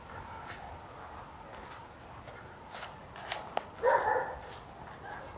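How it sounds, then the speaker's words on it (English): Off-leash dogs in a Toronto city park give a brief yip or bark or two, fairly faint and distant, over steady outdoor background noise with no talking. "That's a gaggle of puppies."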